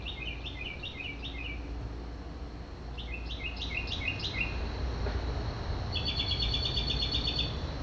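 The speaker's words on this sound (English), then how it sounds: "This is I believe this is a mockingbird" Mockingbird song played back from a phone recording: quick bursts of repeated chirps arriving in three separate phrases, the last a rapid rattling series, all over a steady low hiss.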